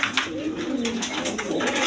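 Army pigeons coo in a dense, continuous murmur close by, several birds overlapping with soft repeated rolling notes and no talk.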